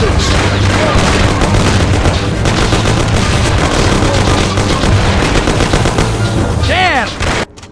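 A gangster shootout in the game Mafia: loud, relentless gunfire with rapid overlapping shots and booming blasts goes on for several seconds, then breaks off abruptly and a ricochet-like whine sweeps by near the end.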